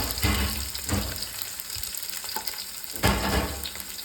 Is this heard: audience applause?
no